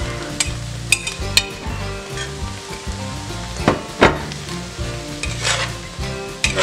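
Chorizo or longaniza, sausage and bacon sizzle steadily in a pan while a spoon stirs through them, with repeated scraping clacks and a couple of sharper knocks against the pan, loud and close with no voices.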